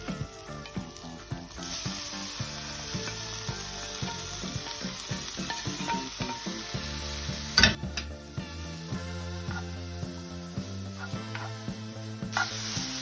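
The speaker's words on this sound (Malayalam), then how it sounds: "അതിലേക്ക് തേങ്ങയും പഴം കൂടി ചേർത്ത് മിക്സ് ആക്കാം നമുക്ക് എന്നിട്ട് നമുക്ക് റോസ്റ്റ് ആക്കാം" Coconut, banana, raisins and cashews roasting in a pan for a banana semiya snack, a steady close frying sizzle with repeated scraping strokes of a spoon stirring, one sharper clatter midway.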